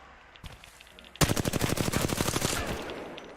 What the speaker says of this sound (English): you could even shoot while you're bunny hopping